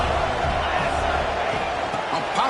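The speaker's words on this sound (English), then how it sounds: "And here comes the noise. This crowd is trying to inspire this defense to make a big red zone stop." A stadium crowd roars in a football video game, a loud, steady wash of cheering and noise with a voice talking over it.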